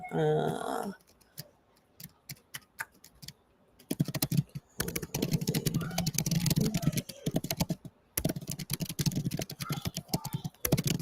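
Rapid clicking of a computer keyboard as notes are typed, in irregular bursts with brief pauses, fairly close, with some speech mixed in.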